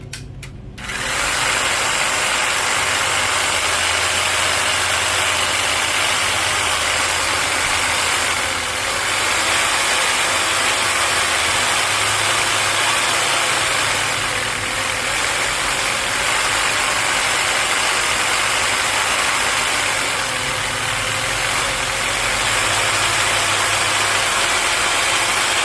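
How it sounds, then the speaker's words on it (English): A Black & Decker hedge trimmer with a fault that makes it cut in and out starts up after a brief clatter. Its motor then runs continuously with a steady mechanical whir and rattle, close and fairly loud, with slight rises and dips in tone. "It's just the motor kind of has to take a second to get up to speed."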